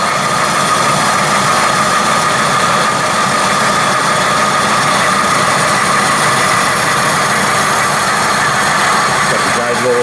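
A Kasto SSB 260 VA vertical band saw runs at a raised blade speed, a loud, steady mechanical whine and hum sustained throughout with a constant broad machine roar close by.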